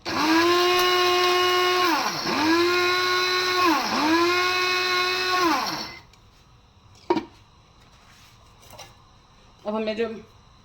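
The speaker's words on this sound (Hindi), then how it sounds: "ये डाल के हम इसको दोबारा पीस लेंगे ताकि ये मसाले भी जो है इसमें मिक्स हो जाए" A spice grinder whirs loudly with turmeric and other spices for beef nihari, its whine dipping in pitch in three pulsing cycles before cutting off, followed by a few faint clicks and handling sounds.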